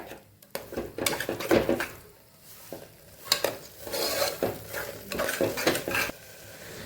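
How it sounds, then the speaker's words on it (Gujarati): Gram flour being stirred into mixed greens bhaji in a pan on a lit gas stove, with close scraping and clanking spoon strokes over a light sizzle. The stirring comes in bursts with brief pauses between them. "એટલે સરસ આપણે મિક્સ કરી લઈશું અને આપણો ગેસ ચાલુ જ છે"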